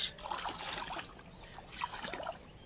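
River water sloshing and trickling as someone wades through it, a steady splashy wash with a few louder surges, fairly close.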